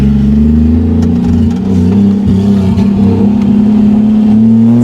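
A 1987 Toyota Supra with a 2JZ-GE engine swap, project car, pulls away slowly as the clutch is released: a loud, close, steady low engine drone with a faint clattering rhythm that rises slightly in pitch.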